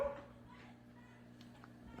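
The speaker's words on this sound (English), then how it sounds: "My dog is being annoying, but I'm going to leave it in because that's life." A dog indoors gives a short yip at the start, then faint whimpers and soft vocal sounds under a steady low background hum, quiet and somewhat distant.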